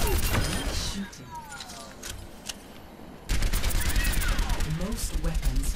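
Gunfire at training bots in the Overwatch video game: quick bursts of shots, then a lull with smaller sounds, then a sustained loud barrage of rapid fire until the end.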